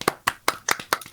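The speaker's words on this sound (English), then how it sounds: "I'm going to give you guys a clap." Six crisp hand claps at a slow, even pace, close and fairly quiet, with nothing else heard.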